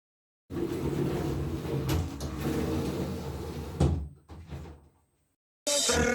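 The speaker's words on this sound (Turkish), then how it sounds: "ben şimdi kapıyı kapatacağım" A home door, likely a bathroom door, swings and bumps shut with a couple of knocking thuds, then quiet follows before a sudden return of room noise.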